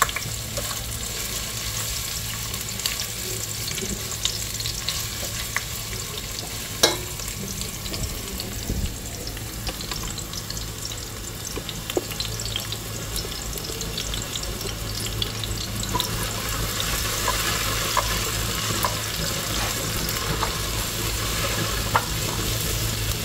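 Chopped onion frying steadily in a hot pan, a continuous close sizzle with occasional stirring clinks and scrapes running throughout, no voices.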